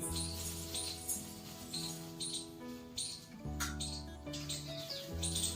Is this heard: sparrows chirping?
yes